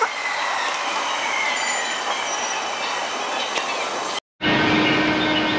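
A Keisei Skyliner express train pulls into Narita Airport station with a loud, continuous rumble of wheels on rails and faint squealing, close by. The sound cuts out briefly before resuming.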